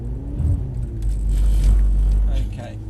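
A Mercedes-Benz car on a test track braking and then accelerating again, a deep rumble swelling and fading close by inside the cabin, with a faint brake vibration and people talking over it.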